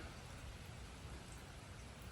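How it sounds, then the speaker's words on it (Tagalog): Steady rain falling outdoors on a Monday morning in the Philippines, a continuous broadband hiss of drops with no gaps, fairly faint and even, with no voices. "Umuulan dito sa amin ngayon."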